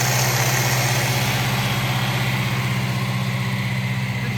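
A Saab 95 engine idling steadily after a fuel pump replacement, a loud, close, even rumble with a constant low throb and no voices.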